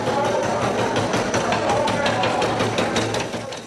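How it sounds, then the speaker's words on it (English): Yelling and screaming by inmates echo through a solitary confinement cell block in the Estelle High Security Unit in Texas, a dense, constant wall of distant clamor, banging and reverberant noise that stays steady throughout. "The yelling, the screaming, the noise is pretty much of a constant reality in this place"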